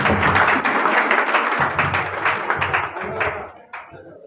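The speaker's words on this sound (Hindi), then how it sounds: "विकास सर के लिए जोरदार तालियां एक बार प्लीज" Dense applause from an audience at a Teacher's Day celebration, honoring a teacher. The clapping is steady and fairly loud, then thins out and fades over the last second.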